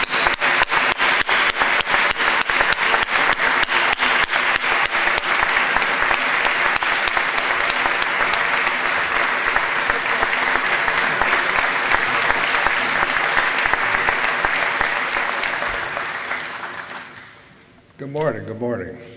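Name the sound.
audience applause at a graduation ceremony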